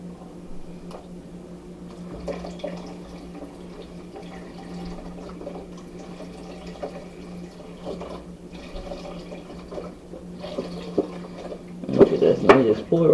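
Beef broth pours from a 32-ounce carton into a pot of soy sauce, a steady soft liquid stream under a low hum that ends in louder splashing and gurgling, while someone speaks.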